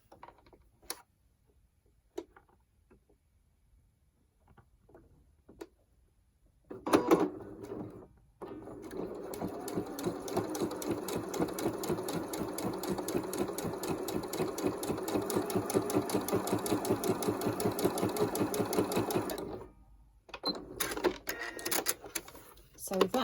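A Janome sewing machine fitted with a gathering foot stitches in one long continuous run, a rapid mechanical whir with dense rhythmic ticking, preceded by scattered clicks and handling noises and ending in brief clatter.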